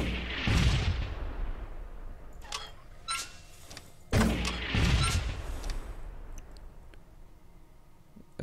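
Grenade launcher blasts in the video game Fallout Equestria Remains: two loud, booming explosions a few seconds apart, each followed by rumbling debris and scattered crackling as the sound dies away.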